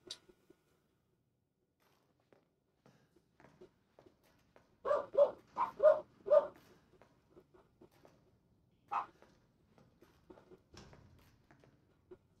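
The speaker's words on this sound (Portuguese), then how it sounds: "Nossa, essas cachorradas" Dogs barking in the horror video game Resident Evil 7, a quick run of several loud barks in the middle followed by a single later bark, with faint shuffling and footsteps between them.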